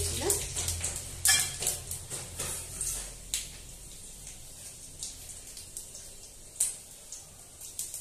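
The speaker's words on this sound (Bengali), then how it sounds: "তেল গরম হয়ে গেছে, ফোড়ন হিসেবে দিয়ে দেবো এই যে 5 ফোড়ন, শুকনো লঙ্কা, তেজপাতা আমি দিয়ে দিলাম" Panch phoron, dried red chili and bay leaf hit hot oil for a Bengali pumpkin dish, crackling and sizzling loudly at first with a few spoon-and-pan clinks. The sizzle then settles into a softer, steady fry close by.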